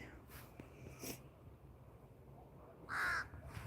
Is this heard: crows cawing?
yes